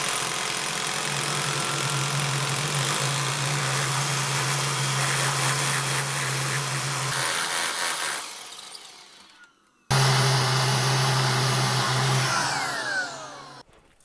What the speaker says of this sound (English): I'm going to use my vacuum cleaner just to catch the dust